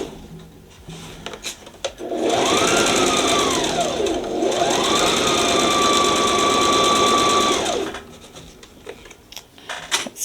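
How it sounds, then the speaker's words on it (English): A sewing machine stitches an adjustable strap. The motor whirs loud and steady for about six seconds, rising and dipping in speed, then stops, with small handling clicks before and after. "I'm sewing from a weird angle."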